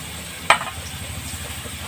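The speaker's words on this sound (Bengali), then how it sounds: "আমি তেলের উপরে হালকা একটু জিরে দিয়ে দেব। আর যে পেঁয়াজ কেটে রেখেছিলাম" Chopped onions and cumin sizzle in hot, darkened oil left over from frying fish, making a steady crackling hiss broken by two sharp scrapes of a stirring spoon, with no talk.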